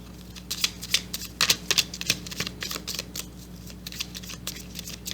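Romance Angel oracle cards are shuffled up close in quick, crisp riffling bursts that come in an uneven rhythm, with no talk.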